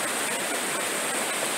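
Steady broadband rush of the Santa Barbara River in the Pecos Wilderness, flowing water heard from a bridge above, continuous and fairly close with no voices.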